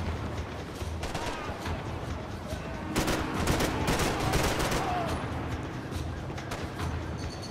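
Gunfire in the Max Payne 3 game: dense, scattered shots and bursts crackle throughout over a steady background din, growing busier midway, with a faint voice mixed in.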